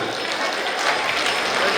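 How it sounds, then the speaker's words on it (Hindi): An audience at a felicitation ceremony claps loudly and continuously in a dense burst of applause. "गणपति जी खड़ा हो जाओ एक बार, तो जोरदार ताली बजाओ जरा चाचा के लिए।"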